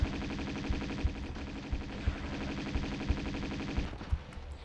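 Uzi fire in the Tomb Raider 2 video game, heard as repeated short bursts of rapid automatic shots with sharp thumps that recur every second or so over a steady background of game music and ambience.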